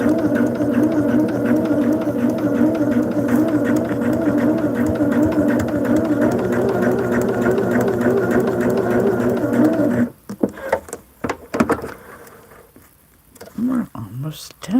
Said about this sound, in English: Turn it over and sew on the line.